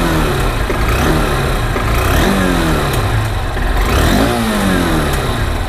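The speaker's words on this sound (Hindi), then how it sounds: "एक बार मैं आपको इंजन का साउंड सुना देता हूँ" A Honda SP 160 motorcycle engine revs loudly and up close, with repeated rising and falling throttle blips over a steady mechanical drone.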